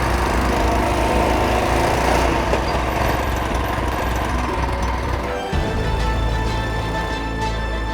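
A Predator 212 Hemi engine on a hotrod mini bike with a torque converter runs loud and steady close by, with a constant droning roar and no talk.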